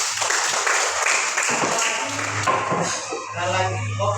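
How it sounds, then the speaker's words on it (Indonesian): Applause in an Indonesian classroom for a pupil, a dense steady patter of children's clapping that runs throughout with a low hum and chatter mixed underneath. "Bagus, tepuk tangan untuk Yudes."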